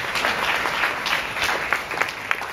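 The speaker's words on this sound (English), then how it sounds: "Then give her a round of applause." Applause from a community audience at a listening-tour meeting, greeting a local representative: a steady, dense wash of many hands clapping, moderately close, continuous for a couple of seconds with a few sharper individual claps near the end.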